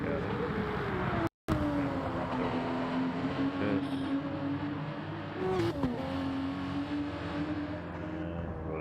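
Porsche race car engine in a racing video game, a sustained droning hum that rises and falls gently with throttle and shifts, loud and steady throughout, with one brief dropout early on.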